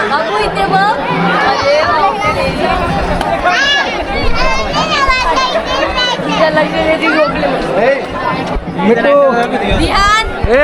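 A large crowd chatters outside a temple on a pilgrimage trip, with many overlapping voices close by forming a constant, loud babble throughout.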